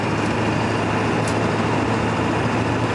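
A 1997 Ford F350 XLT dually pickup cruising at highway speed, heard from inside as a steady, loud engine drone with road and wind noise and no talking.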